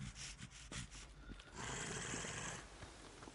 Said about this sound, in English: I hear a growling. Oh, it's one of the big guys.